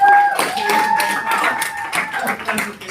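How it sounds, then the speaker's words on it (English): An audience applauds for a table at a workshop, a dense patter of many hands clapping steadily for a few seconds, with voices and a held tone sounding underneath. "Can we clap it up for this table here?"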